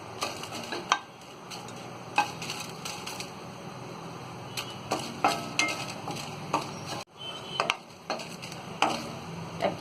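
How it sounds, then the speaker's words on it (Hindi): Whole red chillies dry roasting in a hot kadai, stirred and scraped with a utensil in irregular clatters and scrapes over a faint crackle, with no voice. "अब ये जो हमने साबुत लाल मिर्च ली है इसे हम सूखा रोस्ट कर लेंगे।"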